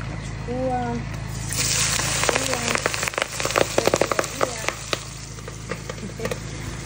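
Vegetables hit hot cooking oil and fry with a loud, crackling sizzle. Dense pops and spits build over several seconds, and a voice talks briefly at the start.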